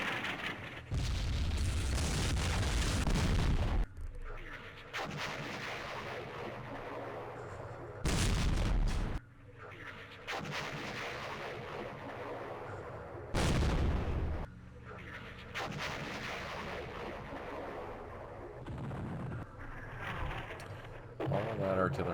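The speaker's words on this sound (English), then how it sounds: "All that artillery." In the Campaign Series Vietnam video game, set in the Mekong, artillery fire lands as several loud, rumbling bursts spaced seconds apart, with someone talking in the quieter stretches between them.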